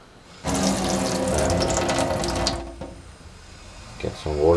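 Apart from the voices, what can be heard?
water flowing from a tap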